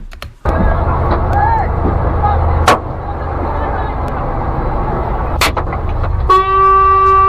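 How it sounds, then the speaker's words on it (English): A driver's car horn sounds as a steady, sustained honk near the end of the clip, cutting through dense, loud street and traffic noise that runs throughout. "Yeah, because he was honking."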